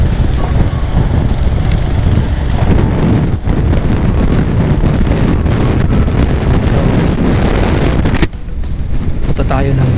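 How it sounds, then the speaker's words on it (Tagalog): Strong wind buffets the microphone outdoors near the Bicol River and Basilica Minore in Naga City during Peñafrancia 2021, a loud continuous roar that cuts out abruptly near the end. "lakas ng hangin, nililipad yung aking si Bitotoy."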